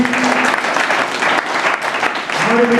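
Loud, dense applause fills the hall as an audience at a Hindi gathering welcomes an honoured guest, with a voice briefly heard over the clapping at the start and end.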